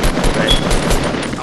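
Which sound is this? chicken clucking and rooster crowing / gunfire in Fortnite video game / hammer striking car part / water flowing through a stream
gunfire in Fortnite video game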